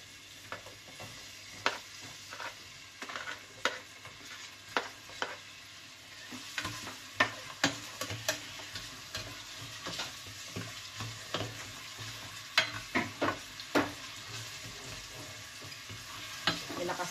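Sliced onions sautéing over raised heat in a pan for pork adobo with shrimp paste, a steady sizzle broken by frequent utensil clinks and scrapes from stirring, close and fairly loud, with no talking.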